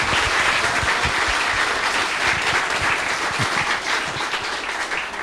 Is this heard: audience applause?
yes